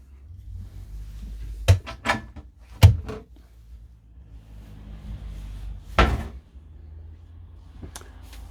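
Cupboard doors in a Dethleffs Trend i6757 integrated motorhome being opened and shut, giving several sharp wooden knocks and clicks spread over a few seconds, close by in a quiet interior with no talking.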